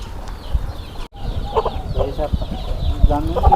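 Country chickens on an organic farm cluck in short, irregular bursts at close range over a low background murmur, several birds calling in turn.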